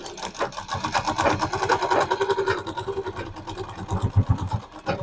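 A sewing machine stitches a medium-sized bag, its needle running in a fast, even mechanical chatter, close and fairly loud, with slight pauses and speed changes near the end.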